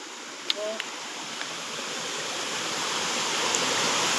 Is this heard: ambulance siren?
no